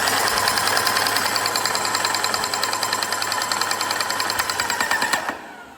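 An airless paint sprayer's motorized pump circulates water, chugging steadily with a fast mechanical pulsing and rattle, running close and loud for about five seconds before cutting off abruptly.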